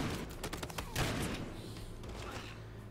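A rapid burst of gunfire in Battlefield Hardline crackles early, with several sharp shots clustered together before fading into a lingering rumble.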